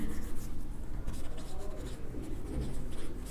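Pen or chalk writing out a maths solution for a Class 12 derivatives exercise, steady scratchy strokes running continuously at close range with a constant background hum.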